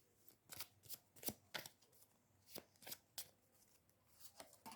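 A deck of gypsy fortune-telling cards being shuffled up close for a reading, quiet riffling bursts repeating in uneven clusters with no voices.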